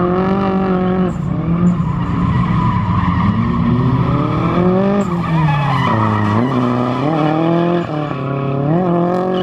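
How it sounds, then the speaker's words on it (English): A lowered car drifting at a drift event, its engine droning continuously while the tires squeal loudly and steadily throughout, with no talking. "It's always cool getting to see your own car drift because you never do."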